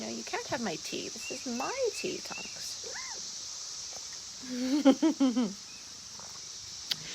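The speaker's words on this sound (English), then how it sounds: "You can hear the cicadas making noise in the background." Cicadas in Indiana give a steady, high, continuous buzz far in the background that runs through the whole stretch, while a person talks nearby in the foreground.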